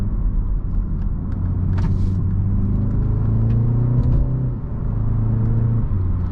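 A 2020 BMW 330i on the road with its engine rumbling steadily and rising in pitch as it revs through a paddle-shift downshift, heard from inside the car with no talking.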